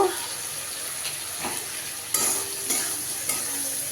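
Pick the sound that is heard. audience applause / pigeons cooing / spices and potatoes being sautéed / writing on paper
spices and potatoes being sautéed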